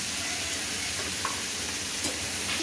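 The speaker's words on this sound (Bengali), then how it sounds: "চিংড়ি মাছগুলো ভাজা হওয়ার পর আমি কচুগুলো দিয়ে দিচ্ছি একটু ভাজা ভাজা করার জন্য" Taro pieces frying in hot oil in a pan after prawns were cooked, a steady close sizzle and crackle with a few brief pops and no talking.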